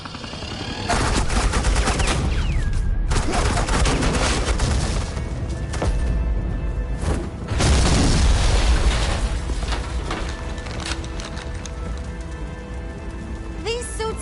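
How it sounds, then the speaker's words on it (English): Sustained suppressing gunfire in the Batman: The Enemy Within video game, a dense, continuous rattle of rapid shots with booming impacts, mixed with game speech and sound effects. "This is Agent Quinn, suppressing fire."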